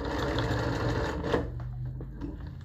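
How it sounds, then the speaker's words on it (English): An industrial sewing machine, a Juki LU-1560N or Consew 339RB-4, runs steadily with a close, loud mechanical whir, then stops about halfway, leaving a few faint clicks and handling noises. "the needle comes up when we are sewing"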